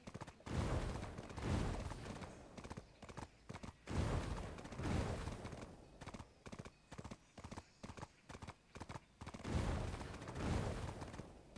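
Horse hooves clip-clop in a remastered video game, a steady rhythmic trot of hoofbeats in repeating bursts, fairly close and moderately loud with a brief whinny-like sound amid the game audio.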